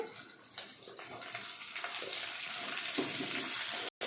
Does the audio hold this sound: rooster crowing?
no